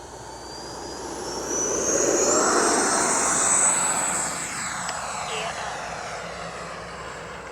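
An FMS F-86 Sabre 80mm radio-controlled jet with a ducted fan motor whines loudly as it passes overhead, a high pitched rushing roar that swells and then fades steadily as it moves away.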